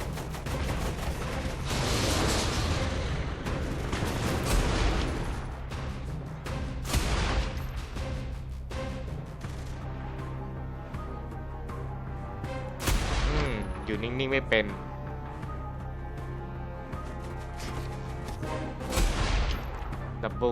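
Explosions and gunfire in the video game Saints Row: The Third, a steady run of loud booms and crashing bursts over a constant electronic hum.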